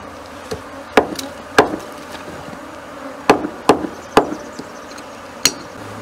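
Swarm of Africanized honey bees buzzing around a nest that has been set on fire, a steady close hum broken by several sharp, loud knocks or chops.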